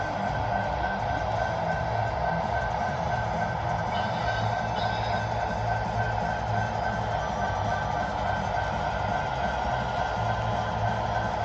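A CN model train runs on a small loft layout, a steady mechanical hum and rumble holding an even level throughout with no talking.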